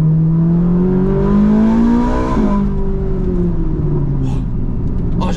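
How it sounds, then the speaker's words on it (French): A Ferrari 458 Italia accelerates into a drift, its loud engine note climbing steadily, then breaking and falling away as the car slides, with a continuous rumble underneath and no voices. "Là, j'accélère à peine plus. Elle part en drift."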